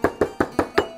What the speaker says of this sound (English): cumin grinding